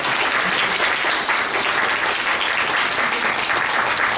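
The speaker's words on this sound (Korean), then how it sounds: "김진호 목사님 다시 한번 큰 박수 부탁드립니다" Steady, loud audience applause fills the hall at a New Year's gathering of a Korean civic association, dense and continuous for the whole stretch with no speech over it.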